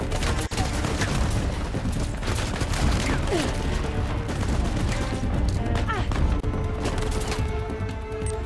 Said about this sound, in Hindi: हमने ग्रेनेड फेंक के मारा।